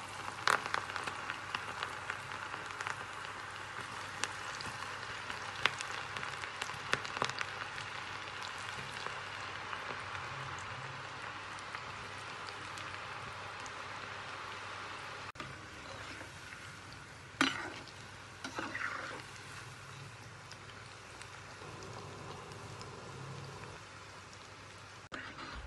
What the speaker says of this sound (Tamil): இப்போ நமக்கு எண்ணெய் கொஞ்சம் சூடாயிருச்சு. இப்போ பக்கடாவை பொரிச்சு எடுத்துடலாம்.